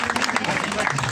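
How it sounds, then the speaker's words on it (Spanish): Audience applause at a coffee award ceremony in Santa Rita de Yoro, Honduras, a steady patter of clapping filling the room while a voice speaks over it. "Un fuerte aplauso."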